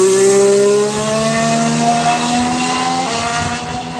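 A McLaren Formula 1 car at Barcelona testing roars past close and loud, its high engine note rising through gear changes with one sharp shift, no talk.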